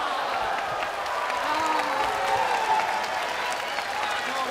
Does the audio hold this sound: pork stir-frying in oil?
no